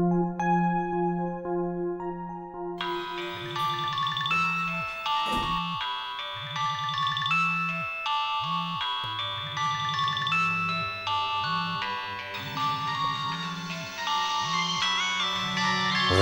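A cell phone ringtone plays as a steady, looping electronic melody of bright repeated tones, fairly loud and continuous throughout with no voices.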